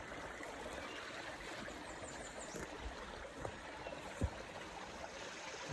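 Water trickles from a wet-weather spring in an Ozark karst cave, a faint, steady babble with a few soft drips and splashes standing out.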